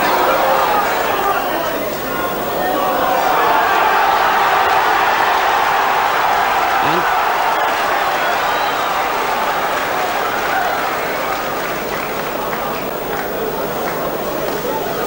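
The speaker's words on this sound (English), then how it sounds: "The roar of the Crucible crowd tells you everything you need to know." Crucible snooker crowd at the 1985 World Snooker Championship final roaring and applauding without pause, a dense, loud, sustained wall of clapping and cheering that keeps up for the whole stretch.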